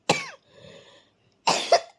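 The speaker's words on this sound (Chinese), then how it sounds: "咳得我真的受不住了" A woman ill with late-stage kidney failure and a second COVID infection coughs hoarsely and close by. One harsh cough, a wheezy breath, then a double cough.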